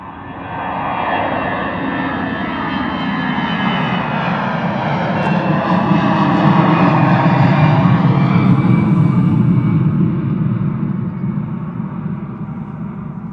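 An Airbus A320 jet departs Bristol Airport with a loud, sustained engine roar that swells and peaks midway before slowly easing, a broad rumbling wash with whining tones on top and no talk.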